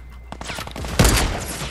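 Rapid burst of minigun fire in a video game, a fast stuttering train of shots swelling into a louder dense roar near the end, close and continuous, no speech.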